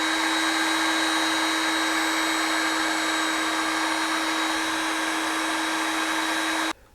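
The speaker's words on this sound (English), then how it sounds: "Throw a little heat shrink over the center of this." A heat gun blows steadily for about seven seconds, shrinking heat shrink tubing over a GM engine wiring harness, with a constant loud whine and airy rush that cuts off abruptly at the end. No one speaks.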